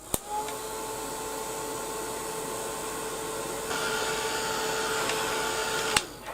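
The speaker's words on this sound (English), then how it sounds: "I am going to use my heat gun. Usually I like to leave it and let it dry itself, but I'm going to dry it." Heat gun drying a craft project, a steady moderate blowing hum with a faint tonal whine that shifts slightly partway, framed by a couple of sharp clicks as it is switched.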